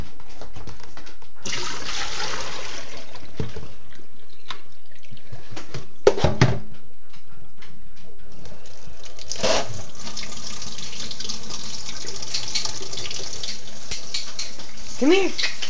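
A kitchen tap runs to refill a dog's bowl with fresh water, a steady hiss of flowing water at moderate volume under a man's speech, with a few clinks and a brief dog whine near the end.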